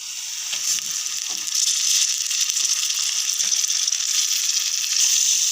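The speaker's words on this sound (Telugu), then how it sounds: "కడిగి పెట్టిన బోన్లెస్ చికెన్ వేసుకొని కలుపుకున్నాం" Washed boneless chicken with turmeric and ginger-garlic paste sizzles steadily in a hot pan while a spoon stirs it, leaving occasional soft scrapes and knocks under the constant frying hiss.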